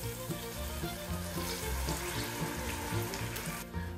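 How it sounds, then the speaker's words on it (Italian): Mushroom cooking water hits a hot pan of mushrooms and garlic for Roman pasta alla carrettiera, giving a loud, steady sizzle and bubbling that runs the whole time with no talk. "e ora andiamo con l'acqua dei funghi"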